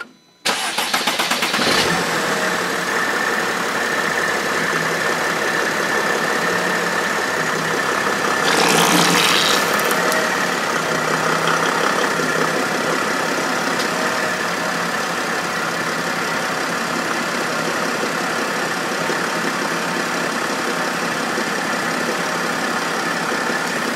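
A 2018 Mercedes-Benz Sprinter van engine cranks and starts, then settles into a steady, continuous idle that stays loud and close for the rest of the clip, with a brief surge in the middle.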